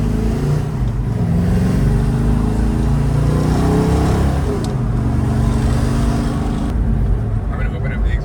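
A car engine with the exhaust opened up roars and revs hard while chasing a 1969 Dodge Charger, loud and close, with people talking over the rumble throughout.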